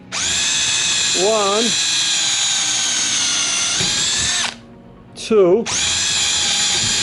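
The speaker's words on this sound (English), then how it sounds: "first let's prep a hole" TECCPO cordless drill boring a pilot hole for a lag screw, a loud steady high whine running for several seconds, stopping, then restarting after a brief pause, with someone speaking over it.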